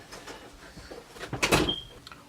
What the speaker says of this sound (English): Close the door for me.